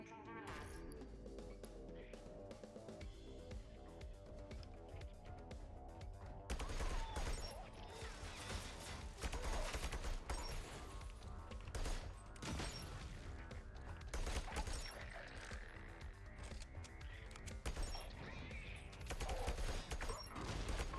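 Assault rifle gunfire in a video game demo, steady rapid bursts of shots layered over game music and noise, continuous through most of the stretch, with a person talking over it.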